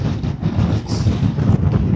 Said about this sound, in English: It is super cold, it's super windy.